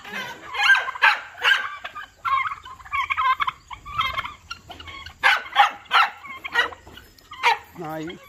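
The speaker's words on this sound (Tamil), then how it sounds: "நாய் கூப்பிட்டே இருக்காப்புல." A farm dog barks in short bursts, mixed with turkeys gobbling nearby, the calls coming in clusters at moderate distance across the yard.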